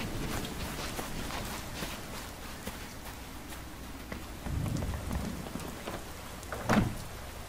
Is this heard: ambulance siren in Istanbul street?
no